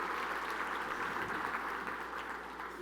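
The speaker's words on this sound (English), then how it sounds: "Give yourself a round of applause." An audience at a talk gives a round of applause, a continuous, somewhat distant wash of many hands clapping in a room, steady and moderately faint, tapering slightly near the end.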